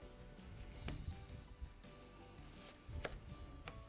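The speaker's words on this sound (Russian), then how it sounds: "огурцы мы должны обязательно нарезать." A knife slices cucumbers for sushi rolls on a cutting board, giving a few faint, sparse cuts in a quiet kitchen.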